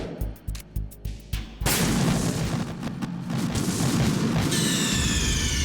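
A series of sharp pistol gunshots rings out in Metal Gear Solid 2, about six evenly spaced cracks, after which a loud, sustained blast of game noise and alarm sweeps in and then a high shrill tone joins it.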